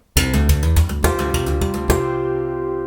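A sharp slapped open low E guitar string, a few quick hammered notes, then another slap that rings out and fades. Nobody speaks.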